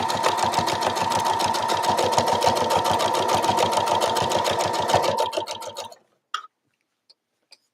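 A sewing machine runs a zigzag stitch for embroidery, a loud, fast, steady mechanical chatter that lasts about five seconds, then slows and stops, followed by a few isolated clicks.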